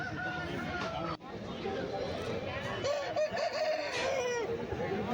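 An Aseel rooster crows amid a noisy crowd of chattering people at a Sunday market in Erragadda, its call rising above the steady babble of voices.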